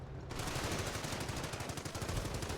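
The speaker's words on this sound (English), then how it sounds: "These guys are gonna get pressed by the machine gun." Sustained automatic machine gun fire in the Company of Heroes battle on the Angoville map, a loud, dense rattle of rapid bursts with continuous gunfire running through the whole stretch, no talking.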